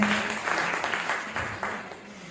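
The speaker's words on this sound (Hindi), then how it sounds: "हौसला अफजाई करने के ये तालियां बजाते हैं।" Clapping fills the hall at a women's day event, a moderate round of applause with loose rhythmic bursts that gradually thins out.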